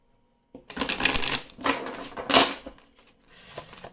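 Oracle des miroirs oracle cards are shuffled by hand close up after a moment of silence, in three quick riffling bursts followed by a softer, shorter shuffle.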